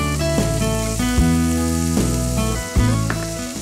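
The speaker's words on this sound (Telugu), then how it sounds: "ఇప్పుడు ఒకసారి బాగా మిక్స్ చేసేసుకుందాం." Vegetable sabudana khichdi with green peas is mixed in a hot pan, producing a continuous sizzle and stirring sounds beneath loud, prominent background music with rhythmic note changes.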